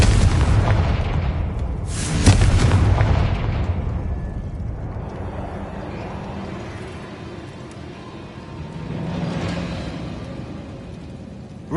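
A loud booming blast from the Confringo explosive spell in the video game Hogwarts Legacy, one big burst near the start and a smaller one later, both trailing off into a rumbling game ambience.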